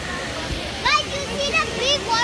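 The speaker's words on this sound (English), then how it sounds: "big waterfall over there?" A large waterfall at Disney's Animal Kingdom gives a constant broadband roar in the background, overlaid by children's high voices and chatter nearby.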